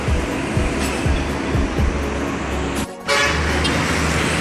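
A Scania intercity bus pulling away from a busy terminal, its deep engine rumbling steadily at close range while a horn toot sounds amid the surrounding traffic noise.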